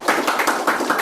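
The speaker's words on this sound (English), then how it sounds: "You can clap for the day." Audience clapping at a devotional discourse gathering, a brief burst of several pulsing claps in steady rhythm, moderately loud and close with no talk over it.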